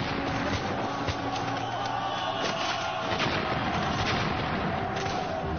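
Rumbling artillery and scattered gunfire form a battle sound effect set around the 1912 abdication of the last Qing emperor, with sharp reports cracking over a continuous low, distant rumble.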